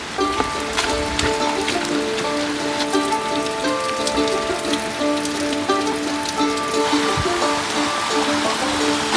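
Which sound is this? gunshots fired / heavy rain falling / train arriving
heavy rain falling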